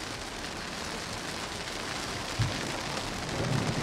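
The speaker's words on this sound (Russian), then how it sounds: "Вот у нас чисто российский классический челябинский дождь." Heavy rain pouring steadily in Chelyabinsk, Russia, a dense unbroken hiss of drops drumming on the surfaces of a Volkswagen Touareg close by.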